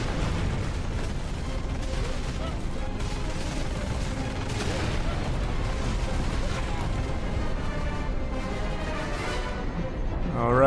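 Rapid turret gunfire and explosions rattle continuously through a video game turret section, a dense, loud barrage that barely lets up, with a faint voice underneath.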